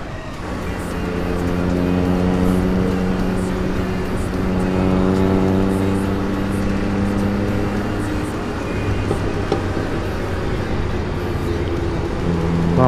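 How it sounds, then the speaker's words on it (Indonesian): Noisy car exhaust droning steadily in daytime city traffic in Bekasi, a loud continuous engine rumble with shifting pitch as vehicles move close by. "Knalpotnya berisik nih"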